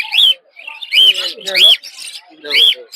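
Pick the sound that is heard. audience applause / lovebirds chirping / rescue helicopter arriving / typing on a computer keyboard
lovebirds chirping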